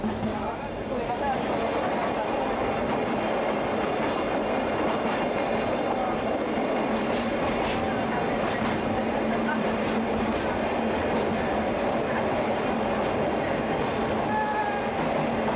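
Sagano Scenic Railway tourist train running on its track near a tunnel, giving a steady loud rolling rumble with faint clickety-clack of wheels throughout, a low hum underneath and occasional squeaks.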